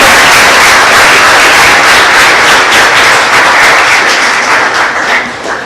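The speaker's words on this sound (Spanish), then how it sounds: "Quisiera que con un fuerte aplauso le diéramos la bienvenida." Close, loud applause fills a lecture hall at an academic science conference as the audience welcomes a speaker, a thick burst of many hands clapping that stays strong and tapers off near the end.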